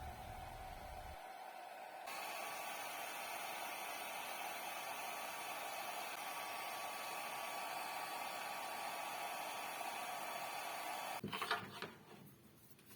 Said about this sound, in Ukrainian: Фен працює однаково добре на будь-якій із трьох потужностей 500, 800 та 1600 Вт.